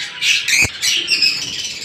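Pet lovebirds, a sea green and a rosy-faced pair, give shrill, close squawks and chirps in quick bursts, with one brief low thump partway through.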